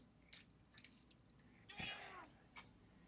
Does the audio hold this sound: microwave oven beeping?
no